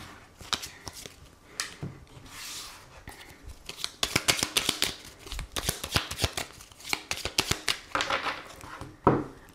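Tarot cards being shuffled and cut by hand, with quick riffling bursts and soft flicks in irregular runs, close and fairly quiet, with no talk over them.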